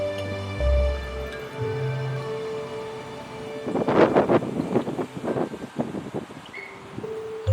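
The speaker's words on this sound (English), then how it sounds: "Every time the wind blows, I have to hold on to the umbrella so that it doesn't fly away." Wind blows outdoors in gusts against the microphone, with rumbling buffets and rustling flutter building in the second half over a steady background hum.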